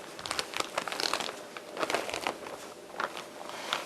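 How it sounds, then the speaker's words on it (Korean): Thin plastic film is peeled and crinkled off a block of roll-in baking fat while preparing Danish pastry dough, giving a soft, close, continuous rustling and crackling. "비닐을 벗기시고 유지를"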